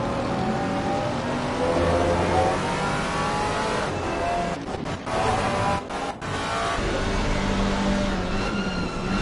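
Maserati race car in a PS5 racing game at Oulton circuit, engine revving loudly and continuously with gear-change dips, heard from the in-car view with no talk.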